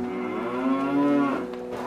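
A single cow gives a long, loud, close moo that rises and then trails off. No other sounds are heard.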